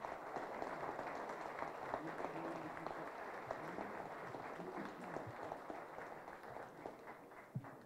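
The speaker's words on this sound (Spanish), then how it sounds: "Un aplauso, por favor" Audience at a national sports journalism awards forum in Mexico applauds steadily for several seconds, a dense even patter of many hands that fades slightly toward the end, with faint voices mixed in.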